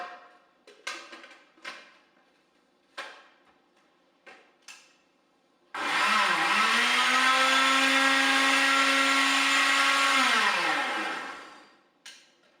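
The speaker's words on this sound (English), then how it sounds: "So I'll just do that quickly on the blender." A blender roars loudly for about five seconds mixing pancake batter, its motor pitch shifting as it runs, with clicks and knocks of handling before and after.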